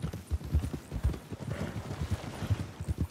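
Horse hooves clip-clop steadily beneath a rider in a Red Dead Redemption roleplay game, a close, even rhythm of soft thuds that runs through the whole stretch with no voices over it.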